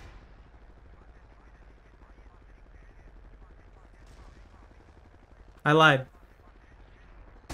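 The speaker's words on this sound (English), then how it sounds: "The artillery was going off." Artillery shell impact in Battlefield 2, heard as a single loud, brief blast partway through, standing out over a continuous low rumble of battlefield noise while a voice talks.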